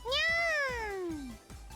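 Kagura, a visual novel character, imitates a cat with one drawn-out, falling meow. The voice is close and clear over soft, regular ticking in the background.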